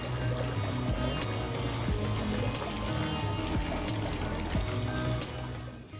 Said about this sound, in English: the mesmerizing sound of water from the fountain